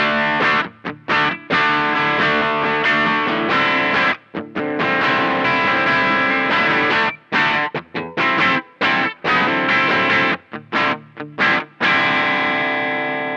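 Distorted Supro Sahara electric guitar playing choppy rhythm chords, loud and close, with short gaps between punchy strummed bursts.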